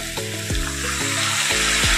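Boiled water poured into a hot frying pan of posto with stalks and potatoes, a loud hissing rush of sizzle close by that swells and holds steady over a couple of seconds, with no voices.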